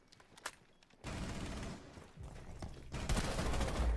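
Gunfire from hip firing in Rainbow Six Siege, with a brief quiet stretch before sustained bursts of rapid automatic shots that pause briefly and then resume louder and dense.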